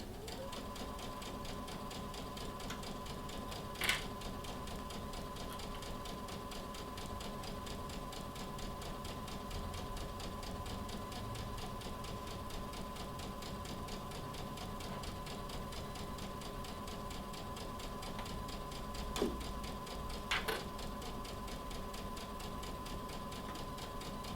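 A home sewing machine stitches a fabric bunny bag with a steady, continuous mechanical whir. The run goes unbroken, with a couple of brief clicks or knocks along the way and no talking.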